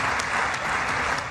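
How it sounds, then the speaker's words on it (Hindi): Parliament chamber applause following Modi's speech in Israel, a dense, continuous wash of many hands clapping at once, loud and close, with no voices over it. "मोदी जी के भाषण पर इतनी तालियां बजी"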